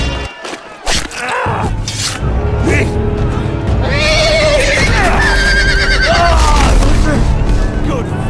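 A horse neighs loudly in a Game of Thrones video game on Xbox 360, a long whinny rising and falling over a dense din of hooves, crashes and battle noise.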